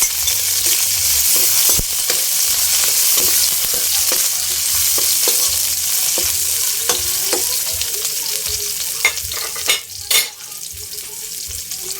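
Onions sautéing in a pan for a vegetable dish with kulitis, garlic already browned, give a steady close sizzle with scattered stirring scrapes and utensil clicks throughout, no talk.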